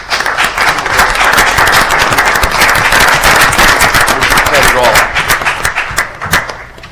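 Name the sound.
audience applause at city board meeting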